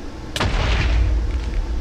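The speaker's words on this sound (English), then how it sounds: "the description says the explosions aren't entirely contained." TNT explosion in Minecraft (Agrarian Skies modpack): a single sharp blast with a sudden onset, followed by a loud, sustained rumbling roar and crackle that fills the rest of the moment.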